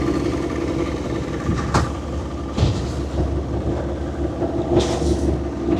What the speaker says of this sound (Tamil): இது 40 கோஸ் வரும் இன்ஜின்